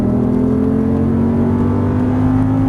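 An Audi R8 V10 accelerates at full throttle on a track, its engine holding a loud, steady high-revving drone with strong harmonic tones throughout, close and continuous with no talk.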